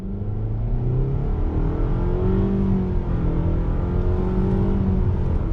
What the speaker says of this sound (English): I have it in sport mode. We're gonna do a little bit of on throttle acceleration.